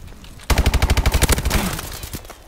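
Rapid automatic gunfire from the Call of Duty Advanced Warfare video game, a loud burst of about a dozen sharp shots fired in quick succession that then tails off into a fading rumble.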